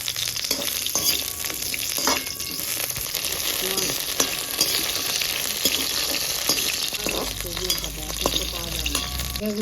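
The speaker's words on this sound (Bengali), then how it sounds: "সজনের ডাঁটাগুলোও ভেজে নিলাম।" Drumstick vegetable (moringa) pods fry in hot oil, a constant crackling sizzle punctuated by repeated sharp knocks and scrapes of stirring, close and loud throughout without speech.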